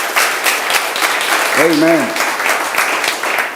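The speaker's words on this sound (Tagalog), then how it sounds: "Come on, malakas sa palakpak para sa Lord." A church congregation breaks into loud, sustained applause, dense clapping throughout, with a voice briefly calling out over it.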